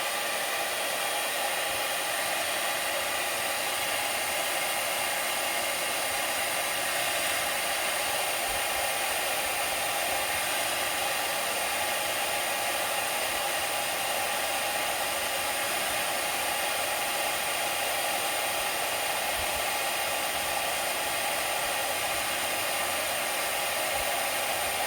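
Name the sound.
hair dryer on highest setting heating phone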